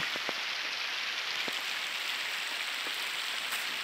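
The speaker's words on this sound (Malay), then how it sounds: "Hujan bukan main lebat turun lah." Heavy rain pours down steadily, a dense continuous hiss with a few sharper drips standing out.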